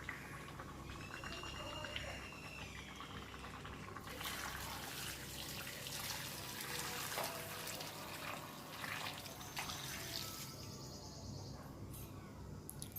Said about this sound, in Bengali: তো এবার গরম জলটা দিয়ে দিলাম।